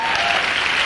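Audience applause at a business motivational event, a dense burst of many hands clapping together, loud and close, continuous through a short moment with no talking.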